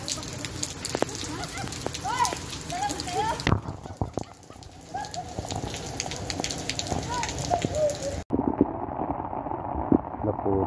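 Steady hiss of heavy rain pouring down, with voices talking over it and a brief cut partway through.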